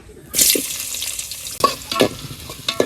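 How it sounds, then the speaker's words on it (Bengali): Chopped onions frying in oil in a cooking pot for pulao, a close, steady sizzle broken by repeated stirring scrapes and clatters, with no talking. "পিঁয়াজ সুন্দর করে লাগিয়ে দিয়ে ভাজছি একেবারে বাদাম কালার করে উড়ে নেব"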